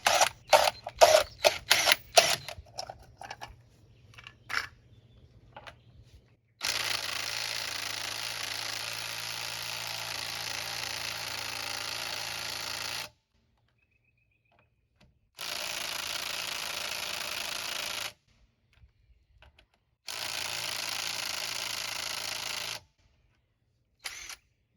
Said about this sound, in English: I'm gonna try this again with this little impact.